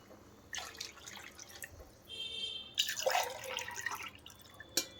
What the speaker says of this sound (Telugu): ఇప్పుడు వాటర్ పోసుకోవాలండి